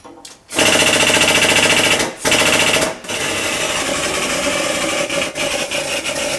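A ceramic rear wheel bearing for a 2017 Suzuki GSX-R1000 race bike is pressed into place by its outer race, giving a loud, continuous mechanical whirring and rattling drone that stops briefly twice, with no talk.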